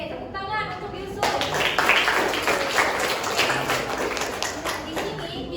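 A classroom of students claps for a classmate after his presentation on bullying, a dense patter of hands that swells after a short spoken lead-in and keeps going steadily to the end.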